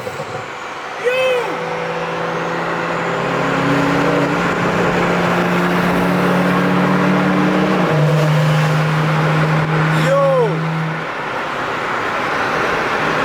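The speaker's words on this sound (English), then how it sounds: "I think he got like open dumps or something, cause he's shooting flames" At a car meet, a car running open exhaust dumps holds a loud, steady engine drone close by for several seconds, with passing traffic around and a brief shout from a person at the start.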